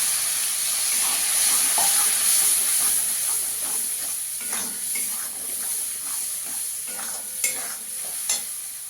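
Ground tomato paste hits a hot frying pan of spices for a potato curry and sizzles loudly, a continuous hissing fry with scraping stirs and a couple of sharper clinks near the end, no voices.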